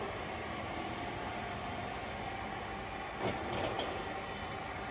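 A Shenyang CW6280B gap bed lathe runs with its spindle turning at slow speed, giving a steady, even mechanical hum and rumble that holds unchanged, with a faint brief scrape partway through and no talk.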